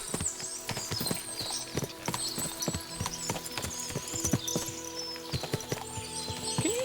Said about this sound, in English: What a lot of horses! They must have cost a fortune.